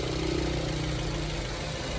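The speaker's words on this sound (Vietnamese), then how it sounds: "Đây, máy nổ rất êm luôn" Smooth, even idle of a 2010 automatic high-clearance car engine, a steady low hum and vibration heard up close without breaks.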